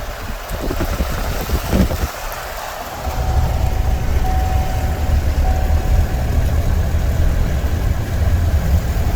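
A vehicle engine drones steadily while driving through a crop field during crop checking, with low rumble and wind buffeting the microphone throughout, briefly quieter at the start before the hum settles in.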